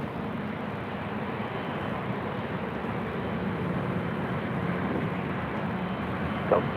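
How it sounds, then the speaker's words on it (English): An Alaska Airlines Boeing 737-800 arriving at LAX from Portland, a steady broad jet roar heard from a distance, fairly faint and even throughout. "This is Alaska Airlines 1160 coming in from Portland on the 737-800."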